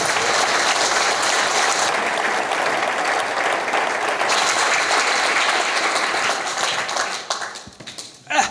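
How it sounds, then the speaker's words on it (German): Thunderous applause for a speaker at a science slam, loud continuous clapping from the crowd that tapers off near the end with a few final claps. "bitte Sie noch einmal um den obligatorischen donnernden Applaus für Rolf Luther"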